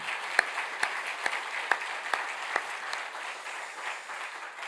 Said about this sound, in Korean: 우리 격려 박수 드리겠습니다.